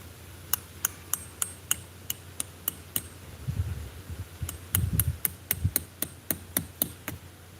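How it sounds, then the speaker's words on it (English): Nails hammered through a tarp at a campsite: a steady series of sharp, ringing blows, a pause filled with rustling of the tarp, then another quick run of strikes, close and without talk. "I'm just nailing the tarp down over the thing."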